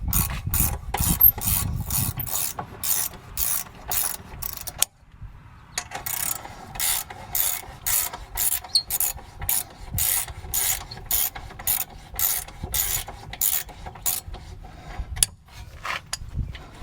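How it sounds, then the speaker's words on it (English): Ratcheting wrench clicking in quick repeated bursts on a rear brake bolt of a Hyundai Palisade, worked in a tight space, with a brief pause midway before the rhythmic clicking resumes. "It's kind of limited space to get a socket in here, that's why I'm using a wrench."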